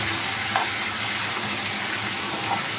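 Basa fish frying lightly in a pan, a continuous close hiss and sizzle of hot oil with faint pops, steady throughout with no voices.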